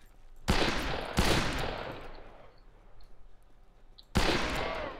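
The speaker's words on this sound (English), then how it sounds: "We shot you like 4 times with the coach gun" Coach gun shots in the Fistful of Frags game: three loud, sharp blasts, two close together near the start and one more near the end, each followed by a decaying boom, with no talk.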